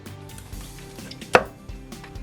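Kitchen knife cutting into an amadai tilefish along the line of the head, soft quiet slicing with one sharp crunching cut through bone, close and alone.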